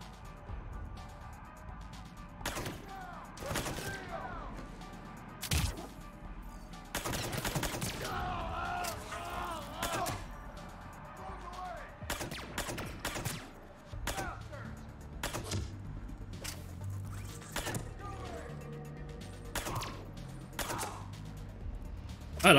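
Gunfire from a gun in Mass Effect 3 Legendary Edition, a string of sharp, loud bursts and rapid volleys spread throughout, with a voice talking between and over the shots.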